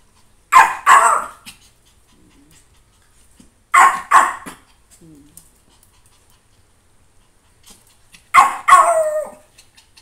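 Two dogs bark while playing, giving three bursts of loud, close, double or triple barks spaced a few seconds apart with quiet gaps between.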